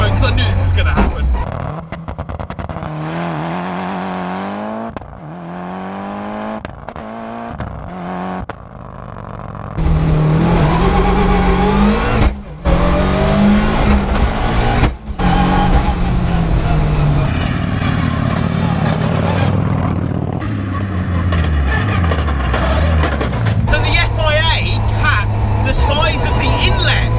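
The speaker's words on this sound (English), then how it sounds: "So this car is a legitimate rally car, it's legitimate, so it has everything, even down to the inlet size." A Mitsubishi Evo 6 rally car with anti-lag and a sequential gearbox revs in rising, harmonic sweeps with abrupt cuts between bursts, close and loud, while a person talks.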